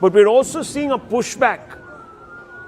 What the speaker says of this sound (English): there are air raid sirens as we speak being sounded in Tel Aviv